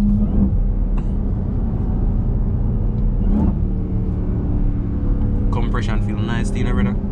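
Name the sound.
2021 Dodge Durango SRT Hellcat supercharged engine accelerating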